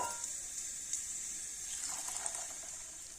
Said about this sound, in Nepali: अब साबुदाना चाहिँ मजाले पखाल्नु पर्छ पानीमा।